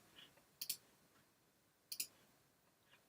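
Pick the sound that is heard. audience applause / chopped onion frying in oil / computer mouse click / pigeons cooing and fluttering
computer mouse click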